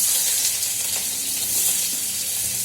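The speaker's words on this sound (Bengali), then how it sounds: "এইভাবে পেঁয়াজগুলো ভেজে নেবো" Chopped onions frying in hot oil make a steady, bright, close sizzle that hisses evenly without pause, with faint stirring underneath.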